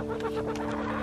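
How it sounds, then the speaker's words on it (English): Homestead chickens clucking near a rooster and an all-black Ayam Cemani bird, a dense continuous clucking chorus close by with no gaps. "Good job releasing the chickens"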